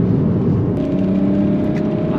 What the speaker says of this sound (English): I hope the camera picks up the turbos.